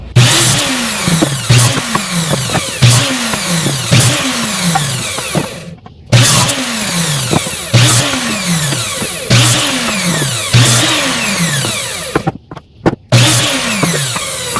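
A miter saw fitted with a length stop cuts wooden pieces to 15 inches for a dog house build. The loud blade whine rises and bites through the wood in about five repeated cycles, with brief quiet gaps between cuts.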